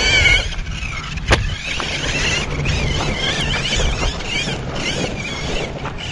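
An RC4WD Pro Rock Racer RC truck driving outdoors, its small electric motor whining steadily with wind buffeting the microphone and a sharp knock partway through.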